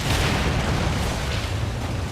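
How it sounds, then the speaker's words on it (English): Ship cannons in the pirate video game Skull and Bones roar in a dense, continuous wash of booming explosions with no clear breaks, loud and rumbling throughout. "just two ships with those great cannons, all that firepower that you give to the player, and you blow everything"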